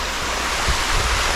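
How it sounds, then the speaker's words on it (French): Constant broadband rushing of falling water from a small waterfall, close and steady, with no voices. "c'est la petite cascade"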